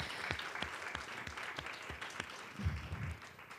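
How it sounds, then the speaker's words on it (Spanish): An audience at a podcasting talk claps for a guest, the applause fairly thin with individual claps audible in a loose rhythm, and a brief murmur of voices near the end. "un aplauso para, Isabel"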